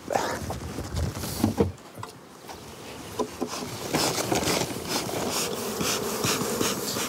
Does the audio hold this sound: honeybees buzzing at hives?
yes